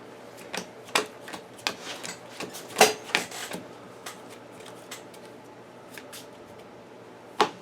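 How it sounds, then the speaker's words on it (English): Encounter cards for a board game are shuffled by hand, giving irregular crisp card snaps and rustles, clustered in the first few seconds, then sparser with a final sharp slap, close and alone. "I'll give those a shuffle."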